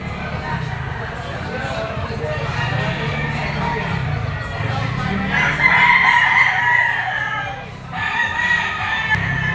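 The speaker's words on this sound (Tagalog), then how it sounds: "Malaking manok nito mga tol." A large two-year-old yellow-legged Kelso rooster crows and clucks outdoors, with other fowl around and someone talking over the calls throughout.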